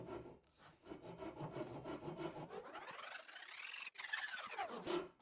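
A Japanese pull saw cuts through wood in steady rasping strokes, starting slow along a horizontal line and lengthening into bigger, rhythmic pulls, close and clear with no talk.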